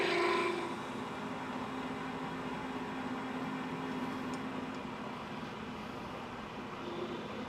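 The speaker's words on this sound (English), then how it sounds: "Never used a reamer this large." A large reamer turning slowly at 70 RPM as it reams a hole, giving a steady, faint machine hum and whir with no talking.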